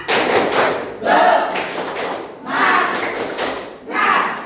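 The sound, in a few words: group rhythmic clapping, tepuk semangat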